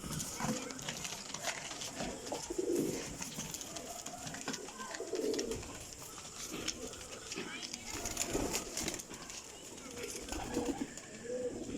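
Teddy pigeons coo in a loft, soft rounded calls repeating every few seconds close by, while someone talks over them and faint hoof-like clopping sounds in the background.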